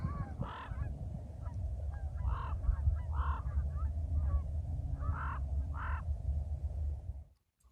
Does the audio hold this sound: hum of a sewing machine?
no